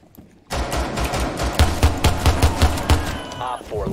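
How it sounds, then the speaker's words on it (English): Rapid repeated shotgun blasts in a GTA roleplay firefight, about a dozen close, loud shots in an evenly spaced rhythm, with a voice speaking briefly near the end. "Whoever's shooting that shotgun?"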